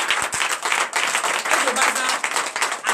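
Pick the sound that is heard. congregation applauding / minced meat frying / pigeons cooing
congregation applauding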